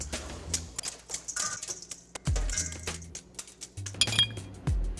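A lump of ice is broken up for an Old Fashioned cocktail with a series of sharp, irregular cracks, chips and glassy clinks, some heavier thuds among them, close by with no talking.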